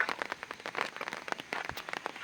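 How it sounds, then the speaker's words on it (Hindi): Heavy rain falls around flowerpots, producing a dense, irregular patter of close drops and splashes striking hard surfaces, steady throughout with no voices. "आज तो ऐसा ही लग रहा है जैसे बारिश रुकेगी ही नहीं।"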